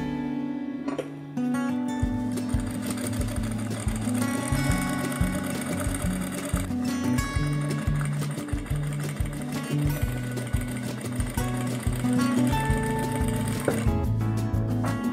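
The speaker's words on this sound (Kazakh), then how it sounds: "Қазір қарапайым машинкамен 2 сантиметр етегін қайтарып," An ordinary household sewing machine stitching a 2 cm turned-up skirt hem runs in a close, loud mechanical whir with a rapid steady stitching rhythm and brief pauses, with music playing underneath and no talk.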